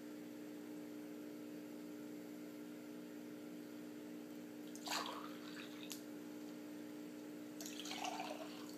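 A steady low hum with two bursts of fizzing, crackling noise, the second longer, from a bubbling chemical reaction nearby.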